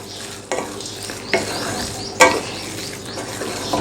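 Carrot halwa with roasted dry fruits being stirred in a pan, a soft continuous sizzle broken by three distinct spoon scrapes and knocks against the metal, close and without talk.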